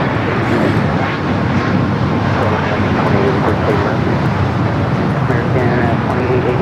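An Asiana airliner on a south side takeoff run at LAX, a loud continuous roar of jet engines with wind buffeting, while a person talks over it.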